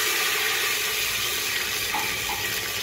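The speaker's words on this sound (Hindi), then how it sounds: "यही मैं 1 कप पानी डाल रही हूँ।" Continuous hiss of one cup of water pouring steadily into a pot of arhar dal khichdi, even and close, with no voices.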